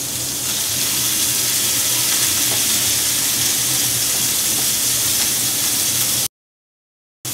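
Salmon sears in a hot pan with a steady, close hiss that holds broad and even for about six seconds before it cuts out abruptly.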